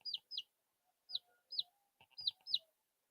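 A baby chick hatched by a hen peeps in soft, high, downward-sliding calls, mostly in quick pairs separated by short silences, close and alone.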